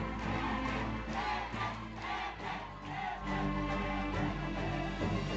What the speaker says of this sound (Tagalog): Our audience is getting wild.